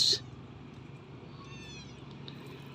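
A black kitten mews once, short and high at the very start, then only low background rumble and faint chirps remain, fairly quiet overall.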